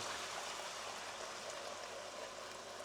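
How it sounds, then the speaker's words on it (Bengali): Water pours steadily into a pot of beef mince and soaked lentils for shami kebab, a continuous, even rushing flow with no break, fairly faint. "তারপর আমি পানি দিচ্ছি।"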